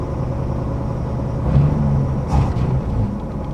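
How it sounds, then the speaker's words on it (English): A 1963 Rambler American's engine idles fast with a steady low hum and drone, swelling briefly twice as the throttle is touched, heard close up with no talking. "the engine is idling very fast, and I can hit the gas and it'll idle down"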